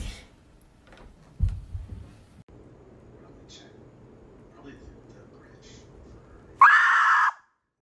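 A house cat screams loudly at a door early in the morning, a short harsh yowl bursting out near the end after quiet shuffling and faint background sounds.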